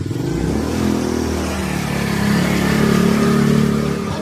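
A motorized tricycle engine rumbles close by with a clattery, rising rev as it passes, loud and steady throughout with no talk over it.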